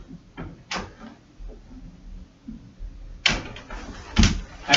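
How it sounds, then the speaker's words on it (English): A door swings shut over martial arts belts knotted at its edge, giving a few soft knocks and then louder thuds and a clunk as it closes, in a quiet room. "Make sure that the knot doesn't get caught in the door."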